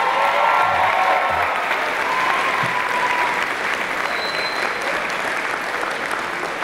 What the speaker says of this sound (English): could I have a round of applause for the staff that worked with you these many weeks this past summer?